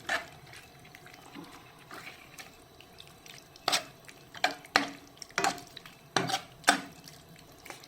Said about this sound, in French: Là, j'incorpore la sauce avec la viande.